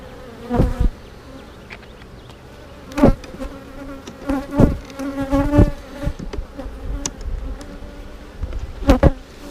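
Honey bees buzz around a hive running low on numbers after being boosted with a frame or two of bees, the steady hum broken by several louder buzzes as individual bees fly close past.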